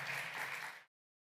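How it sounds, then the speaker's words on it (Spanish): An audience at the Estación Podcast festival in Madrid applauds for Leila, a dense burst of clapping that cuts off abruptly after under a second. "aplauso para Leila y aplauso para ustedes por venir a esta hora, a este lugar"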